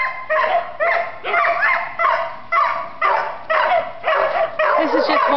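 Many dogs bark at an animal shelter, loud repeated bursts of barking and yipping in an uneven rhythm that fill the clip, with whimpers between some barks.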